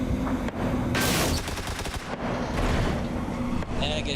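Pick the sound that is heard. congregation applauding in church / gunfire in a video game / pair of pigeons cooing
gunfire in a video game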